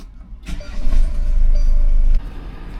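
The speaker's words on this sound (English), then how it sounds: "Let's turn on the car." A car engine cranks and catches, rising into a steady, loud idle close by before settling abruptly.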